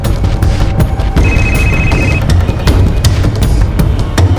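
A telephone ringback tone heard over speakerphone after a number is dialed, a single steady ring sitting on top of a loud, rumbling background.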